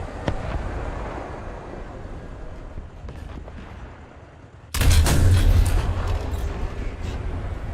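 A Challenger 2 main battle tank fires its cannon in War Thunder, a sudden heavy blast cutting in midway after a stretch of low rumble and scattered gunfire, then lingering as a loud roar.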